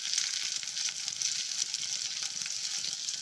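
Pepper, poppy seeds and field beans sizzle steadily in a hot pan, a bright, even crackling hiss that holds at moderate loudness close up without pause.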